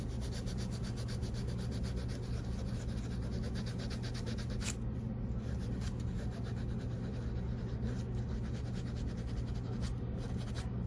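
A vintage Allen Edmonds corrected-grain leather shoe is sanded by hand with 220-grit sandpaper to remove scratches, a close, steady scratchy rubbing that continues without pause, with a few sharper scuffs near the end.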